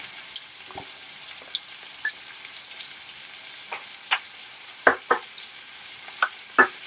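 Ginger frying in a pan for shahi paneer, a soft continuous sizzle with scattered crackles and pops and a few stirring scrapes, close by and with no voices.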